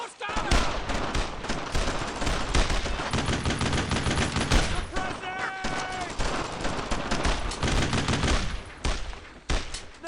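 Intense gunfire from the World War II shooter Brothers In Arms Road To Hill 30, with continuous close machine-gun and rifle bursts firing nonstop and shouted voices buried under the din.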